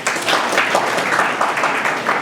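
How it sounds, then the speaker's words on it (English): Applause from a school audience at an entrepreneurship awareness program, a steady patter of many hands clapping for a couple of seconds. "Please clap for him"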